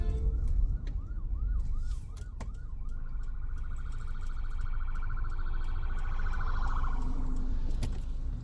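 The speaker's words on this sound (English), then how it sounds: "I pulled over for an ambulance that was behind all these cars" An ambulance siren yelps in quick rising sweeps, then changes to a sustained warbling tone over the steady rumble of idling traffic close by.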